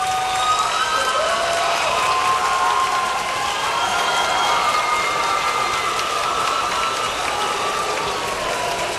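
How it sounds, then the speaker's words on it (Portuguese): A live show audience applauds the contestants, a steady dense wash of clapping and crowd noise holding at even loudness throughout. "Uma salva de palmas para os nossos participantes."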